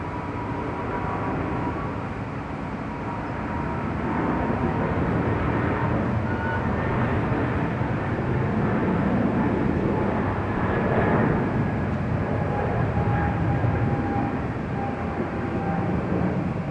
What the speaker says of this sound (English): It's the 777 now rolling down,